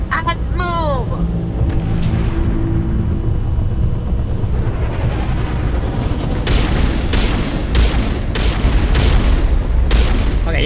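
Gunfire and heavy explosions in the Mass Effect video game, a dense run of booms and shots with sharp bursts crowding the later seconds, loud and continuous under shouting voices.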